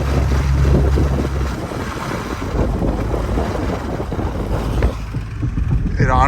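A 2WD Jeep Grand Cherokee WJ driving in a snowstorm makes an abnormal, loud, train-like rumbling roar, heavy and continuous throughout, mixed with wind buffeting.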